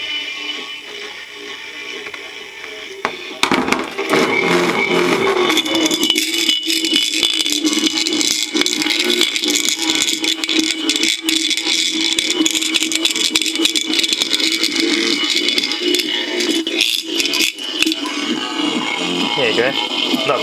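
A harsh, buzzing adjustable electric car horn from a 1981 Daihatsu blares almost continuously in short bursts and long stretches, its raspy tone wavering as it is adjusted, with faint rattling underneath.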